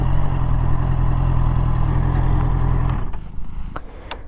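A Honda CBR 650R motorcycle engine hums steadily, a smooth low drone heard close up that drops away after a few seconds, leaving a softer idle with a few clicks.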